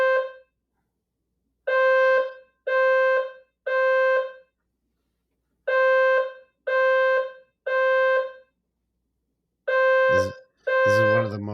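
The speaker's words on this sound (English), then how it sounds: "There's the alarm." An alarm sounds in repeated bursts: a steady electronic tone that blares on and off in groups of three with pauses between, loud and close, with a louder harsher burst near the end and no talking over it.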